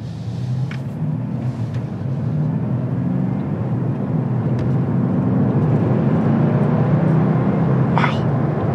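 A 2021 Mercedes-AMG sports car engine drones steadily under acceleration with a deep, continuous rumble, holding strong throughout with no pause, close and loud.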